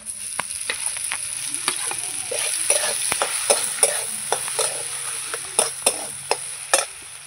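Potatoes frying in spiced oil with turmeric for an alu chop filling, stirred with a metal spatula, a loud continuous sizzle broken by frequent sharp scraping and tapping strokes against the pan, close by, with no talk.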